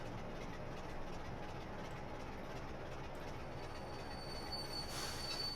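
Train wheels squeal under braking in a train simulator game on the Great Western Main Line, with a coal train rumbling steadily and a thin high-pitched squeal rising faintly near the end, no voices.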